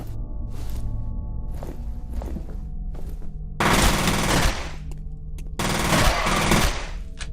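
Gunfire in the F.E.A.R. shooter game: a few sharp single shots, then two loud sustained bursts of automatic fire separated by a short gap, close and punchy over faint background.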